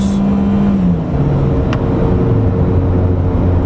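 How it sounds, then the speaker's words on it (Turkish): A Ford Fiesta 1.4 Titanium's engine is held at around 6000 rpm with a loud, strained whine, then the pitch slowly drops as the revs fall away. "Tam 6000 devir 6000 devir çeviriyor arkadaşlar."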